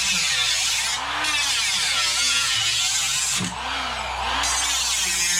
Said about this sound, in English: we're back to the electric cutoff tool, which, as you hear, it makes a lot more noise, but it's a lot faster than that Air 90-degree tool